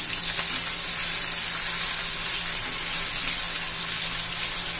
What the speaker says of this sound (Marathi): आता टोमॅटो घालून घेऊया.